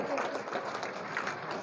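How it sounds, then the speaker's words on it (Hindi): Audience applause at a village temple ceremony honoring a guest at a Tejaji temple, a dense continuous clatter of many hands mixed with crowd noise, moderately loud throughout. "जोरदार तालियां, दोनों हाथ ऊंचे करके"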